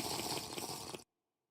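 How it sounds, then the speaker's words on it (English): Water being gulped by a character in the video game Minecraft, heard as a loud, continuous splashing, gurgling rush that fills about a second and then cuts off abruptly into silence. "that water drinking sound is so loud"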